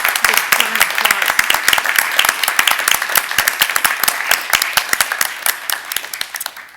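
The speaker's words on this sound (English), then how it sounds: "So, let's give them all a big welcome. Big round of applause." An audience at a Three Minute Thesis regional research presentation event applauds the judges, fairly close, with crisp claps that grow sparser and fade toward the end.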